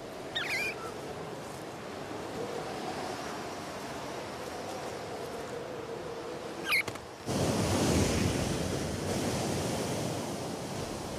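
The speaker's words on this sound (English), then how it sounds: "Down at sea level, the cold fronts bring gale force winds, great for surfers" Gale-force winds drive surf onto a shore at sea level during a cold front: a steady, loud roar of breaking waves and wind, with a faint brief chirp near the start. The roar swells noticeably heavier for the last few seconds.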